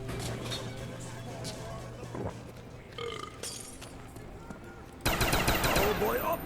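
Video game gunfire from a weapon fitted with a Double Tap perk, a rapid automatic burst near the end after quieter game sounds and background noise, with a voice talking over part of it.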